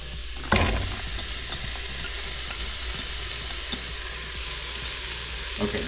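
Chopped vegetables and celery sizzle in a splash of vegetable broth on the sear setting of an Instant Pot, an oil-free sauté. A steady close frying hiss begins with a sharp burst as the food hits the pot, with faint stirring clicks.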